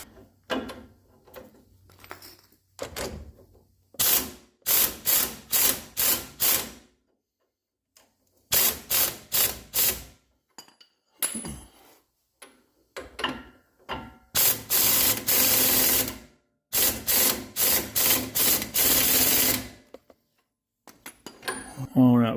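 Pneumatic impact wrench hammering on a suspension bolt of a 2015 Ram 1500 during a leveling kit install, firing in repeated short rattling bursts with pauses between, close and loud, with some talk in the quiet gaps.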